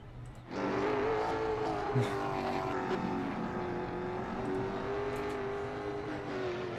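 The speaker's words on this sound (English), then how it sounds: "Blake Cuttrell, the only car on track, just doing some burnouts" A late model race car does burnouts alone on a practice track at night, its engine holding a steady loud rumbling drone with slight rises and dips in pitch throughout.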